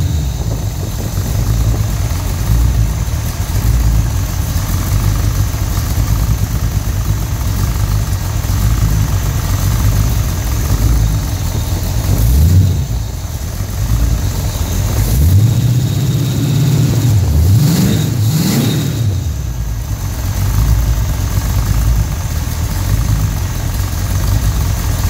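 A Pontiac engine with a Quadrajet carburetor idles with a steady low rumble close by, revving up a few times near the end before settling back.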